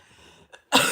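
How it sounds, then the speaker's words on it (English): A single short cough bursts out loudly near the end after a quiet moment and a small throat sound. "Coughs here."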